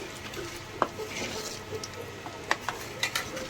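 Whole spices (bay leaf, black pepper, cloves and cumin) frying in a pan as the base of a Pakistani-style chicken korma, with a soft continuous sizzle broken by a few light clicks and scrapes of a utensil.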